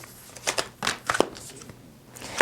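Tarot cards are shuffled by hand in several quick, crisp riffling bursts separated by short pauses, close and clear with no talking.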